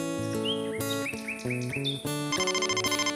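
A cartoon mobile phone rings with a bright, electronic melodic ringtone of stepped chirping tones, loud and close, ending in a rapid trilling pulse with no talking over it.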